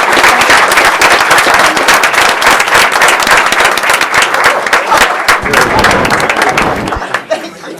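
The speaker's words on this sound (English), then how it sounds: "Another round of applause for our MLK winners." Applause from an audience at a school board meeting honoring MLK award winners, dense and sustained clapping that fills the room, then tapers off near the end.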